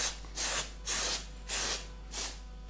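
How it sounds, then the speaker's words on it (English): Spray glue hisses into a cushion in four short bursts, each a soft airy spray of about a quarter second separated by pauses, close and quiet over a low steady hum. "spray your glue in."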